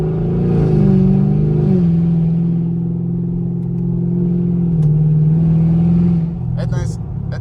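A Chevrolet Camaro SS engine droning loud and close, with a deep, steady throaty note that dips and shifts as the car downshifts and burbles, while people talk over it.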